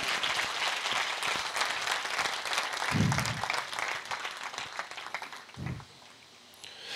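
A church congregation applauds during a Hindi-language sermon, with loud, steady clapping from many hands that fills the space for several seconds before gradually thinning out.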